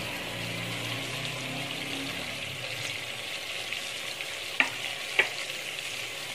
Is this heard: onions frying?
yes